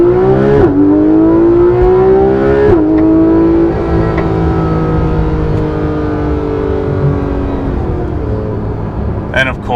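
A Porsche GT3 RS with PDK gearbox downshifts with the paddles toward first gear. The loud engine note drops and jumps in pitch at each quick gear change under a steady interior drone.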